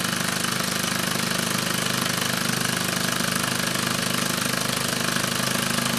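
Red Devil Mk3 engine running steadily at normal speed in second gear, a continuous, even, loud mechanical drone with a fast regular knock and no talk over it.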